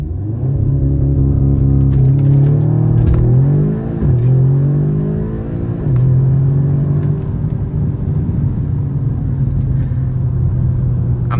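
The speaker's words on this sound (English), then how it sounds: "gonna test launch control here" An all-wheel-drive car with just over 300 wheel horsepower launches hard using launch control, its engine revving loud and close and climbing through gears in rising pulls with brief shift dips, alone without talk.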